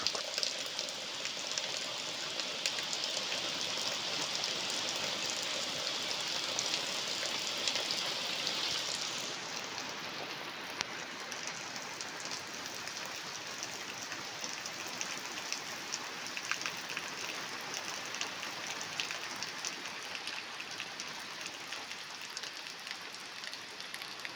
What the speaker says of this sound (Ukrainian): А тут у нас дощик нарешті пішов.